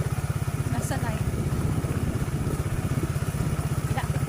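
A motorcycle engine idling on a rural road, a steady close, low chugging pulse that runs throughout, with faint voices in the background.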